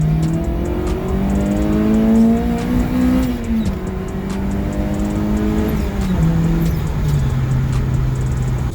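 A Honda car pulls hard from close by, its engine climbing through the revs, then dropping and rising again across two gear changes in a loud, continuous roar.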